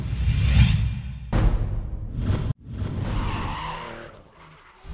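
Drift cars at a French drift championship round scream through the gears with sustained tire squeal and skidding roar, loud and close, cut by a brief sharp dropout before the engine-and-tire noise resumes and fades.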